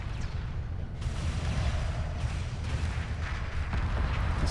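Carrier cannons fire in the space strategy game Homeworld, a dense rumble of repeated booming shots layered over a continuous low roar of combat.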